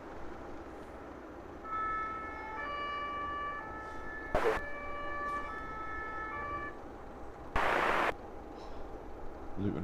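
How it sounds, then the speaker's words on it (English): An emergency vehicle siren at London Luton Airport wails in a steady two-tone pattern at a distance, with two sharp bursts of noise cutting through partway. "bringing the lights and sirens to our streams"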